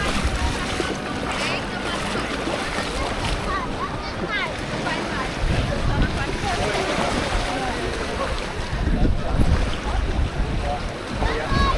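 Rough sea waves churn at Ponta das Canas beach in Florianópolis as strong wind gusts batter the microphone, with a person talking throughout over the steady roar.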